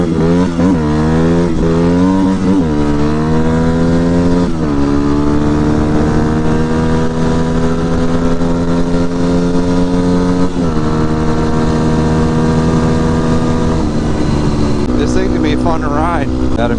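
2008 Yamaha WR250R motorcycle on a ride, its engine loud and close, climbing in pitch through repeated revs and gear changes, holding steady, then revving up again near the end.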